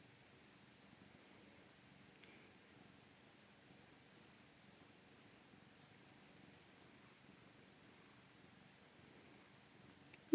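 A cat purrs softly while being petted, a faint, steady, close-up rumble that continues with no break and no voices.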